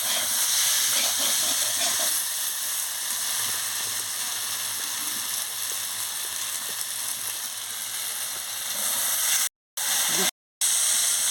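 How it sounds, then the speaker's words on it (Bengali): Seeded banana slices frying in hot oil, a steady close hiss and sizzle filling the whole stretch with someone talking over it and two brief dropouts near the end. "কি সুন্দর লাল লাল করে ভাজা হয়ে গেছে যাচ্ছে এইভাবে ভাজতে হবে বিচা গলাকে"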